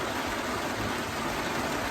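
Rain falls outdoors on a rural pasture where cattle graze, a steady, dense hiss of drops filling the whole moment without any talk.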